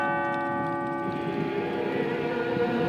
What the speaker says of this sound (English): The noon bells rang today at St. Ambrose in downtown Des Moines.